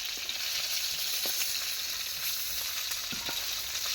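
Pieces of fish sizzle in hot oil in a home kitchen pan, a constant bright hiss with a few soft spatula taps and pops, close up and uninterrupted.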